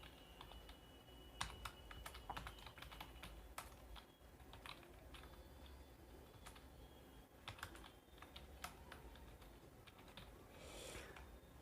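Steady typing on a computer keyboard while filling in an online PF withdrawal form, a close, quiet run of uneven key clicks with brief pauses, no speech.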